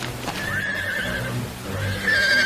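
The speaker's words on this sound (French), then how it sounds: "Espèce de chevaux paresseux. Pas aussi vite. Arrêtez de galoper comme ça." Horses neighing loudly and repeatedly, with hooves galloping close by underneath, in a cold, cloudy outdoor setting; no talking is heard.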